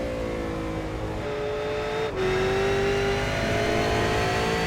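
V8 race car engine droning at a steady high pitch at Donington Park circuit; the note dips briefly mid-run as the throttle lifts slightly, then carries on.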